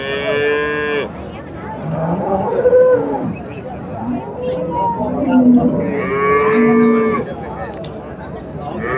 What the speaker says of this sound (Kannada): ಒಳ್ಳೆ ಒಳ್ಳೆ ತಳಿ ಹಸುಗಳೆಲ್ಲ ಸಿಗುತ್ತೆ ಇಲ್ಲಿ